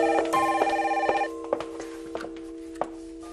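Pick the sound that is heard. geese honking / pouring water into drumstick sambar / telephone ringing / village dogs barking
telephone ringing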